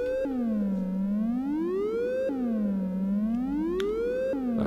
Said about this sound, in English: That's also a broken sine wave.